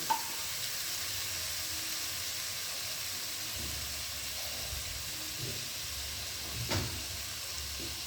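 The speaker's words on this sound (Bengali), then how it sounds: "মশলাটা কষে গেছে, এবার আমি বেগুনগুলো এর মধ্যে দিয়ে দেব।" Eggplant pieces dropped into a spice paste frying for a prawn and taro curry, giving a steady broad hiss of sizzling oil with a few faint clinks and one brief sharper crackle, close and even.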